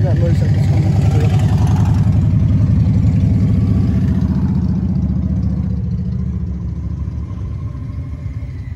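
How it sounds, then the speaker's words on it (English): A motorcycle passes outside a Walmart, its engine rumbling loud and close at first, then fading gradually as it moves away, with a person talking over it. "You guys can hear that motorcycle coming through."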